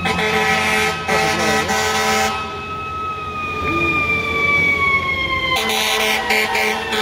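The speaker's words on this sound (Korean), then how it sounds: "뒤에 경찰차까지 따라가네." A police car siren wails on a main street in Chelsea, Manhattan, on a summer night. The loud, sliding tone is punctuated by bursts of blaring horn at the start and end, and no one speaks.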